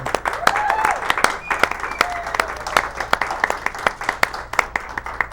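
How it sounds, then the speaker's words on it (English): An audience at a local televised community event applauds, with continuous crisp clapping from a crowd close by and some voices mixed in. "give yourself a round of applause for people in this audience"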